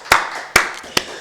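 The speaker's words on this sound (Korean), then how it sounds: "우리 박수를 하나님께 영광 드리겠습니다" Hands clap in church during a worship service, three sharp, loud claps spaced about half a second apart, with a little room reverberation after each.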